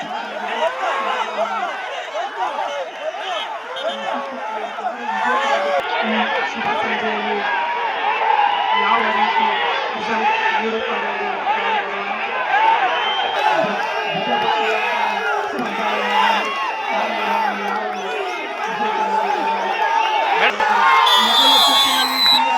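A large crowd cheers and shouts in a continuous, loud, dense wash of many mixed voices with whoops, swelling slightly toward the end.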